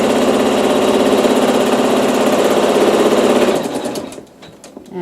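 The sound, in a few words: embroidery machine sewing a tack down stitch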